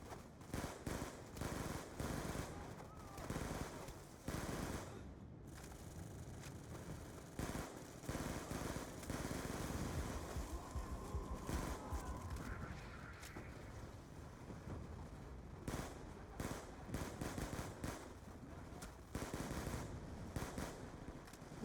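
Rapid machine gun bursts from a weapon in the Call of Duty Black Ops 2 video game, repeated fast-firing volleys broken by short pauses, faint and steady with no talk.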